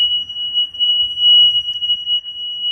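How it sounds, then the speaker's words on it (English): A boat's high-water bilge alarm sounds aboard a sailboat on a solo Pacific crossing, a steady piercing electronic tone held without a break, with faint low knocks and rumbles underneath. "The high water alarm is going off."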